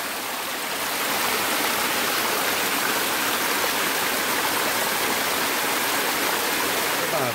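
Clear stream water runs down over rock in a steady, loud, continuous rush that fills the whole span with no break.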